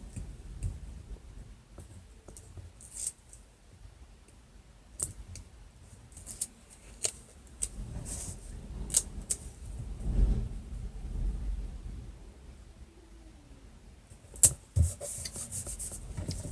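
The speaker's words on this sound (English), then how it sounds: "Okay, so we'll just peel off the backing and I'm going to stick them on." Backing is peeled from patterned paper panels and the panels are pressed onto a craft box, giving soft rubbing, faint tearing and scattered small clicks and taps, quiet and close with no talking.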